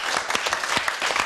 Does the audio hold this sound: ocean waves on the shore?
no